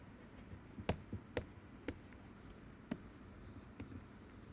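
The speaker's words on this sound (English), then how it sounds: "So I'm going to write dimensions" A marker or chalk writes on a board in a lecture hall, producing sparse sharp taps and short scratchy strokes against a quiet room background.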